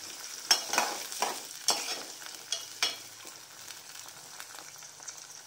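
Small sambar onions frying and being stirred in a pan for a tamarind stew, with a steady soft sizzle broken by several scraping stir strokes, close and moderately quiet with no talking.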